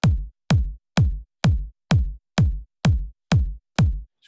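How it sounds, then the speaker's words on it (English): A Vengeance sample kick drum, hard, thuddy and sharp, struck nine times at a steady even pace, each hit a loud deep punchy thump with a quick click on top and short decay, alone with no other sound. "this was just a Vengeance kick drum that I like the sound of"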